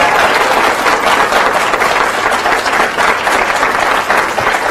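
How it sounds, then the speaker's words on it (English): An audience at a 2018 candidate forum applauds in a continuous, loud wash of clapping that stays even from start to finish. "how about a round of applause for Citizens Project and the League of Women Voters?"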